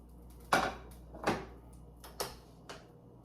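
A few light metallic clanks and knocks as pans are shifted on a stovetop, four separate, fairly quiet hits spaced out over a few seconds.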